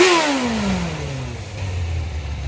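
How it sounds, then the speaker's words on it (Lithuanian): A moped engine revs and then settles, the pitch sweeping down from a high whine to a steadier lower drone, loud and close with no talking. "Nu jau dūmas baigdinėjasi, variklio darbas irgi to lygėja."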